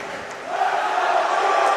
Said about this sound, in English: Now the crowd is back in it again.